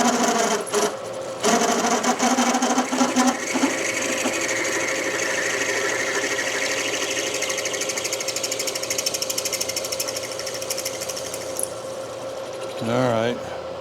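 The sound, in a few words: lathe tool chatter while machining a hydraulic motor adapter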